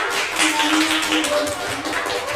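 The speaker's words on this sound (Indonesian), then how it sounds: "Untuk teman-teman yang di depan, luar biasa, tepuk tangan dulu." A classroom of students bursts into steady, dense applause, close and lively, with overlapping claps filling the room for a couple of seconds.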